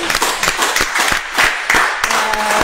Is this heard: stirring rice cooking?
no